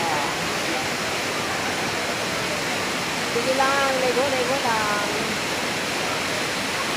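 Daranak Falls in Tanay, Rizal roars as a constant broadband rush of falling water, loud and close, with people briefly talking over it midway.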